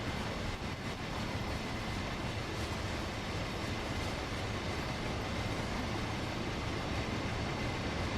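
A freight train rumbles along steadily in the Train Sim World game, with a dense, continuous roar of wheels and engine and faint rhythmic rail clatter, loud and close throughout.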